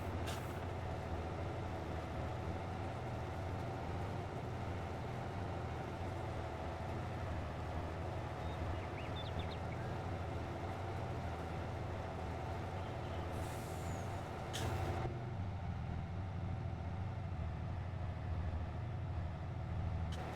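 A truck engine drones steadily in Farming Simulator 22 on the Kiwi Farm Starter Map, a low continuous rumble with a brief hiss of air release partway through, no voices over it.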